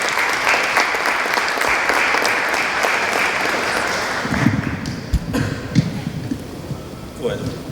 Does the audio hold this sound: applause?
yes